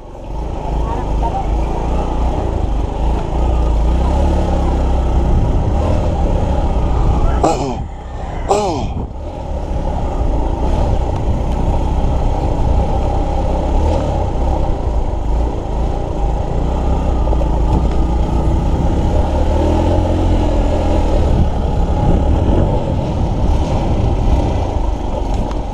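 A Suzuki GD 110 motorcycle engine drones loudly and steadily up close on an uphill ride, dipping briefly partway through before pulling hard again, with talk at times over the engine.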